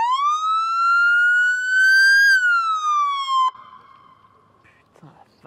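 Ford Explorer police car siren wailing loud and close, a single long rising-and-falling tone that cuts off abruptly, followed by quieter scattered noises and brief talk.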